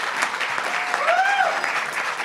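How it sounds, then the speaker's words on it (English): Audience at a gathering gives a round of applause, steady crowd clapping throughout with a brief whistle-like tone rising over it midway. "Let's give them another round of applause."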